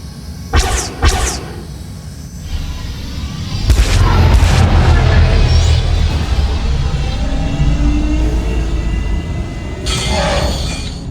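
Enemy ship opening fire in a Star Wars: The Old Republic space scene: a few sharp blaster-like bursts up front, a low rumbling engine bed throughout, and another crackling volley near the end.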